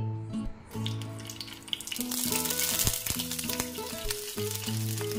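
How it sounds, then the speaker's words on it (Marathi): Sliced eggplant frying in a few spoonfuls of hot oil in a pan, a steady loud sizzle with crackling bursts and occasional stirring clatter throughout. "आपण वांगी तेलामध्ये परतून घेणार आहे."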